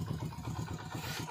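Motorcycle engine running steadily at low revs, a rough continuous idle-like putter on a village road near fields and an orchard in foggy winter, heard alone without talk.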